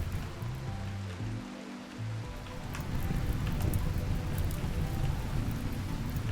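Continuous rainfall in the RimWorld video game, a dense hiss of drops that thickens and grows louder partway through, heard alone with no voices.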